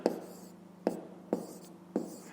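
Pen writing numbers on paper while working a school math problem, four short scratchy strokes spaced roughly evenly, close and quiet against a faint background hum.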